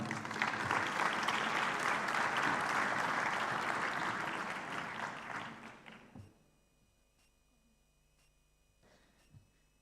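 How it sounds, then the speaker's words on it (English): A conference room audience at an African summit applauds a welcomed deputy governor of the Bank of Namibia, steady full clapping that fades out after about six seconds, leaving near silence with a couple of faint knocks. "give a round of applause to welcome Deputy Governor from the Bank of Namibia"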